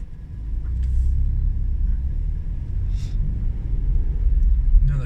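A car on Cripple Street, a narrow downhill road, gives a steady, close engine rumble with road noise that holds for several seconds without breaking.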